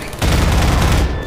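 A short, loud volley of rapid gunfire erupts close by during a Half-Life 2 firefight, sustained for about a second before cutting off.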